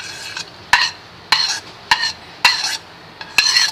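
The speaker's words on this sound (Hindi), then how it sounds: "मेरे पास एक प्लेट है श्रेड किए हुए चिकन, ठीक है। इसको हमने थोड़ा सा फ्राई कर लेना है" Shredded chicken frying in oil in a pan, stirred with a utensil in about six rhythmic sharp scrapes, each followed by a brief sizzle, close and fairly loud.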